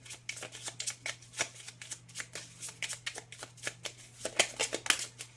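Oracle cards being shuffled by hand, a quick series of crisp riffling flicks and slaps in irregular bursts, close and clear with no speech.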